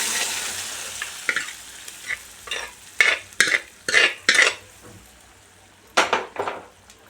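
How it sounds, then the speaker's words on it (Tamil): Boiled spinach greens are stirred into a hot tempering in a pan for a Tamil lentil thokku. A spoon scrapes and clatters against the pan in uneven strokes over a faint sizzle, close and fairly loud. "இப்போது கீரை வந்து இதில் சேர்த்திக்கலாம்."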